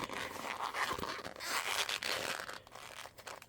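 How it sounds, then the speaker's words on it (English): Sturdy plaid vinyl fabric being pulled and turned through an open zipper, giving continuous crinkling, scraping rustles with brief squeaky rubs, close and fairly quiet. "Just some squeaky vinyl I got going on here"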